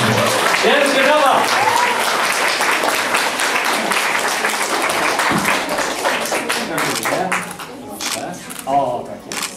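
A crowd applauds at an award ceremony for a children's literary contest in Olsztyn, with sustained dense clapping that thins toward the end while a voice speaks over it.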